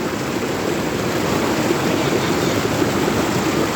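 Water from Khlong Lan waterfall flowing past a resort in Kamphaeng Phet, a loud, steady rushing wash close by with no pauses.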